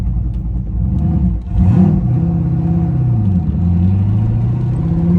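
A turbocharged Camaro engine drops off throttle and settles into a neutral idle, giving a loud, close, steady low rumble with a brief dip in pitch as it falls, then a smooth, wavering drone.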